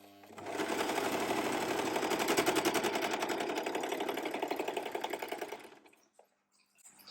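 A Singer sewing machine stitching in a rapid, even mechanical rattle that runs steadily for about five seconds, close and loud, then slows and stops.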